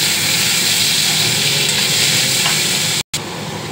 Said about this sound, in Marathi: टमाटर गलेपर्यंत यानं शेकवतोय